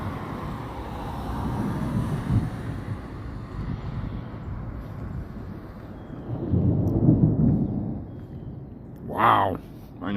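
Thunder from a lightning storm in Alabama rolls in as two deep, drawn-out rumbles, the second swelling louder midway, before a brief voice cuts in near the end.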